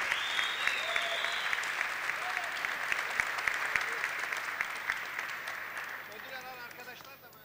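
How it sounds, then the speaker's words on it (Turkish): A crowd at a Turkish folk dance contest applauds the Konak Public Education Center and Evening Art School team after their İzmir-region dances, with a voice over the dense clapping, which thins out near the end. "Alkışlarımız kendilerine gidiyor."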